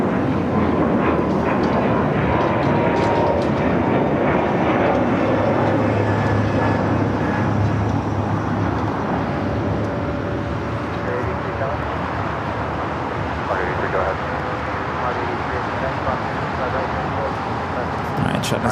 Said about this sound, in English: Do have a United A321 Neo now taking off.